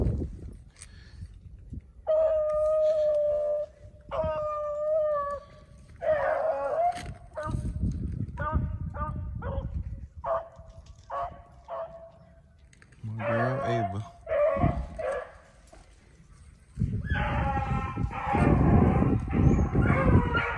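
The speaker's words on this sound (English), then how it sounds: "Those dogs a little far off." Several beagles on a rabbit hunt howl in long, wavering tones, overlapping and trading off, with brief pauses between bouts. They sound moderately loud rather than close.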